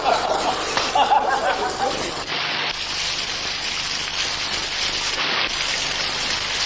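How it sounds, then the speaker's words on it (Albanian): Steady rain falling outdoors, a continuous broadband hiss that stays even throughout, with faint voices or chuckling mixed in near the start. "Bie shi."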